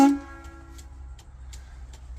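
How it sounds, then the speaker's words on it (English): The big air horn of a Kenworth 18-speed truck blasts loudly right at the start, then cuts off and rings away, leaving a low idling rumble from inside the cab. "I've got a massive horn"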